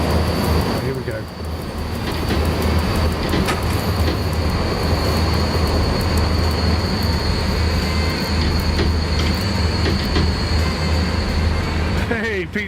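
A train in the SimRail game pulls uphill under power, a steady loud rumble of motor and rails running throughout with light clatter, while someone talks over it.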